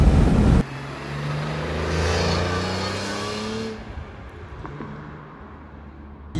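A BMW M3 E46 engine pulls hard under acceleration, its note climbing steadily for a few seconds after a loud opening burst, then easing back to a lower, steadier drone close to the car.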